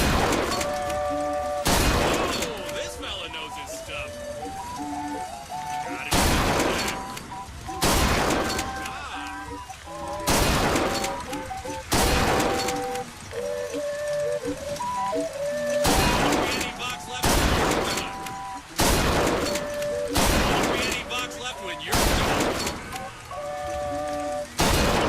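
Repeated loud shotgun blasts boom at irregular intervals, about a dozen across the stretch, at a carnival shooting gallery in Bioshock Infinite, with crowd and fairground ambience and bits of talk between shots.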